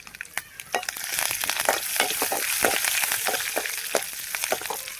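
Seeds splutter in hot oil in a pan, making a dense, close sizzle broken by frequent sharp crackling pops throughout, with no talk.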